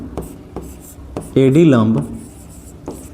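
Chalk scratching on a classroom board during a geometry lesson, several short dry taps and strokes, with a teacher's voice speaking clearly over the middle stretch.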